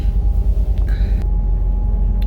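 Deep, constant low-frequency rumble inside a Freightliner truck cab on the road, pulsing slightly, with a brief faint voice-like sound over it.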